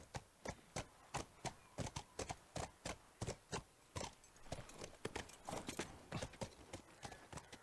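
Horse hooves clip-clop in The Last of Us Remastered, a steady run of crisp, close hoof strikes on hard ground in an even trotting rhythm, with no talking over them.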